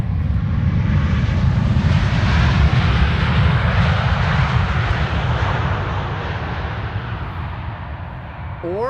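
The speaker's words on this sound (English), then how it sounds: "KLM flight 760 arriving from San Jose" KLM airliner arriving at Amsterdam Schiphol during the morning rush: a loud, steady broadband engine roar that stays strong throughout and eases off slightly toward the end.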